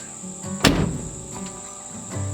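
The door of a 1954 Ford F-100 pickup truck shuts with a single solid thunk, close by, against a steady background of insect chirping.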